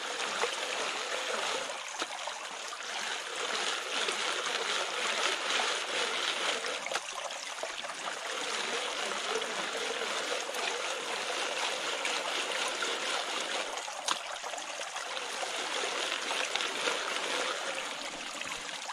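Stream water runs steadily and close by while gold is panned in a creek, a continuous rushing trickle with small splashes and gurgles, no talking.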